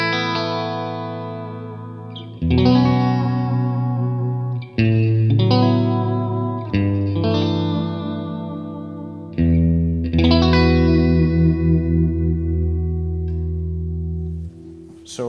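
Electric guitar playing sustained chords and single notes through a Lexicon hall reverb, with long lush tails ringing between strikes; the tone sounds thick, slightly chorused and driven, close and loud, with no talking.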